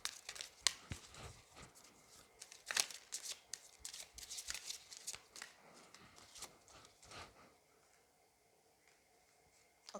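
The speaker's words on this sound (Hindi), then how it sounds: "ओके, दो कार्ड्स गिर गए हैं।" Tarot cards are shuffled in quick, soft riffling bursts and flutters, a couple of cards dropping out, quiet and close, with the shuffling thinning out toward the end.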